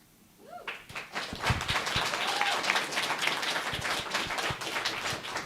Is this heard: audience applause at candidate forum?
yes